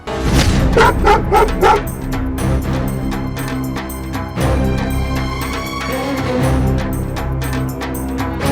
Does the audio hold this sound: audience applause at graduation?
no